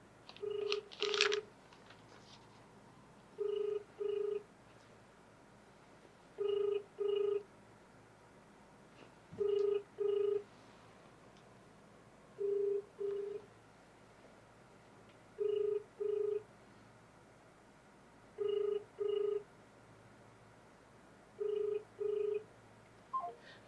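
Outgoing phone call ringing back on the line: paired double ring tones repeat steadily about every three seconds, moderately loud over faint line hiss, with no talking.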